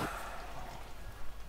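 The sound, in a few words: rain in Farming Simulator 17 video game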